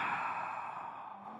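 A single long, deep breath, steady and close, with a soft breathy hiss that fades slightly toward the end.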